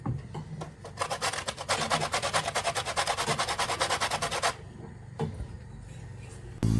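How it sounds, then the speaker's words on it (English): A lemon is zested against a grater in a home kitchen while tortellini are made, giving a steady, rapid rasping scrape for a few seconds. It ends abruptly, then a couple of light knocks follow, close and fairly loud. "We're going to do first some lemon zest."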